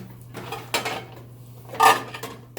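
A metal pot lid clatters against a pot as it is tried for fit, with a couple of distinct clanks, the loudest near the end, against a quiet kitchen hum.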